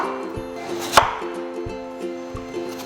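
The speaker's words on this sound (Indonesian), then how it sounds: "Ini kita akan potong kotak-kotak." Knife chopping an apple into cubes on a cutting board, a series of close, sharp thuds spaced irregularly, with one louder knock near the start.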